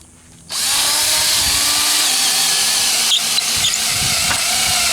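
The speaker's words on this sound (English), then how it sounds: "These lag bolts are pretty big, so we're going to pre-drill the hole so we don't split the ties." A power drill pre-drills holes for large lag bolts into 4x4 ties to anchor a rail flange, outdoors in extreme heat; the steady, loud whining drill runs continuously after a brief quiet start, with a few knocks and rattles near the end.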